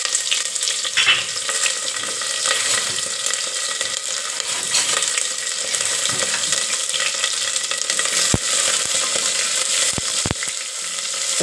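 Mustard seeds, cumin, onion and green chilli fry in hot oil as tempering for a simple breakfast dish, producing a steady, close, hissing sizzle with a few sharp clicks near the end.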